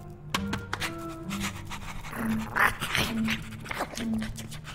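Puppies in Minecraft Story Mode whimper and whine in short, high, repeated yelps close by, with faint panting and small thuds around them.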